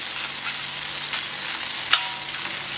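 Garlic and shallot fry in a pan for a Padang-style turmeric-coconut chicken curry, giving a steady, even sizzle throughout with one brief clink near the end.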